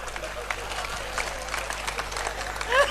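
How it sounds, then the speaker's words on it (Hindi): A crowd at a Hindi comedy poetry gathering claps in a loose, moderately loud patter that runs throughout, with a brief louder burst near the close. "ताली बजाओ।"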